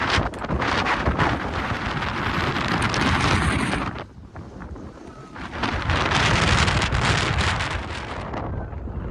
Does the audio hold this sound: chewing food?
no